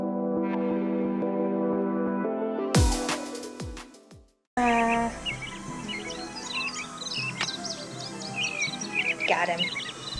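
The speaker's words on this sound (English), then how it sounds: "Those birds look so realistic." Birds in a woodland video game chirp and tweet in quick, bright bursts over an ambient forest background, following a brief burst of musical sounds.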